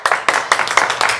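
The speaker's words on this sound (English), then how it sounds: "Again, please stop clapping." An audience claps at an Ada County planning and zoning hearing, giving about five sharp, close, evenly spaced claps in a brief burst.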